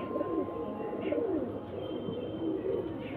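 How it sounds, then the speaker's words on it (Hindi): Lambari pigeons coo in soft, repeated low throaty phrases, close by, over steady background noise with no speech. "कबूतर देखिए"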